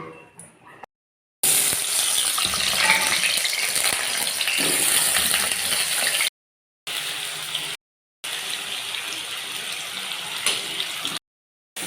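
Potatoes fry in hot oil with a loud, dense sizzle, broken by several abrupt cuts to silence between sections.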